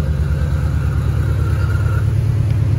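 Pontiac Fiero with a Quad4 engine idling outdoors, a steady low rumble close by with a smooth, even rhythm and no voices.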